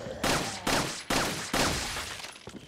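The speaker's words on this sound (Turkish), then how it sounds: "ben hep ateş edeyim ya tabancayla" Pistol fire in Resident Evil 4, four loud, sharp shots spaced about half a second apart, each followed by a short decaying tail, then fainter clatter.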